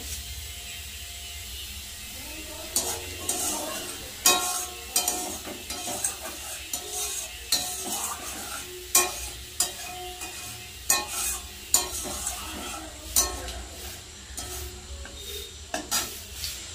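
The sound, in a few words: bay leaves and whole cumin frying in oil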